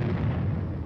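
Air bursts from a battalion of 105mm howitzers roll out as a brief, heavy, distant rumble of artillery fire, low and continuous with no distinct single blast.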